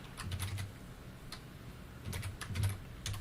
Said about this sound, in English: I'm literally typing the derivative of and typing the problem